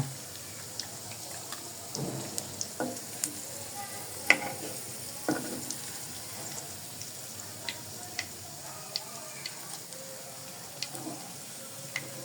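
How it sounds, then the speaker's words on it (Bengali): Soft, steady sizzle of onions frying in oil with scattered crackles and a few clinks of a utensil, fairly quiet throughout. "এই 4টে পেঁয়াজ ভাজা হয়ে গেছে"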